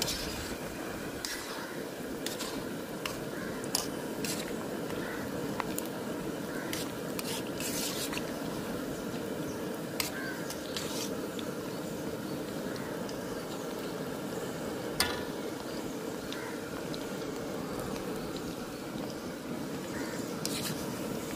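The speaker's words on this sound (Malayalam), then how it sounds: "നമുക്കിതൊന്ന് ഇളക്കി കൊടുക്കാം" Coated cauliflower 65 pieces are stirred in a pan during village-style cooking, giving a steady, dense bubbling hiss with faint scraping ticks scattered through it, continuous and moderately loud from start to finish.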